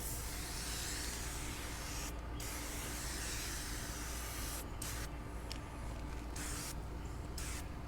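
Hybrid Solutions Wash & Wax is sprayed liberally onto a car's front tire in direct sun, a close continuous foamy hiss broken by a few brief pauses.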